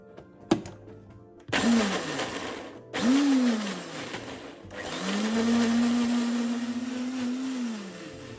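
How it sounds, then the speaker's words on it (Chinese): A kitchen blender whirs through tender lemongrass and spices with a little water, starting and stopping in short bursts before a longer steady run, its pitch dipping as the blades bite into the mixture. "香茅嫩一点，搅拌器搅拌后容易化开，比较好入味。"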